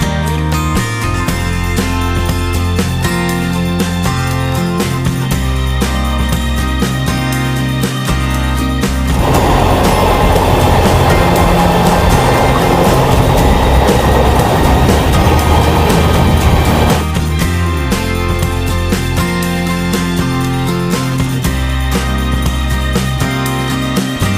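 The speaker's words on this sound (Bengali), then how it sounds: "ট্রেন এখন ঢুকছে" A long-distance Kumbha Express train pulls into Barddhaman Junction on its run from Howrah to Haridwar, a steady loud rumble of wheels and carriage noise swelling into a denser, rougher roar midway before settling back.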